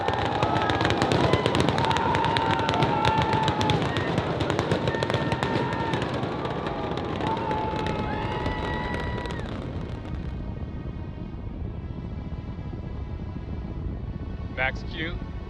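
SpaceX Starship rocket lifting off, a loud, continuous crackling roar that holds steady for the whole stretch and thins slightly toward the end, with radio callouts and voices talking over it.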